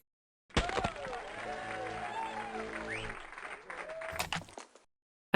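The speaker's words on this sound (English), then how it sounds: "I appreciate the applause." Applause from a crowd heard inside a game, a burst of clapping that starts abruptly, runs evenly for a few seconds with faint tonal sounds underneath, then cuts out.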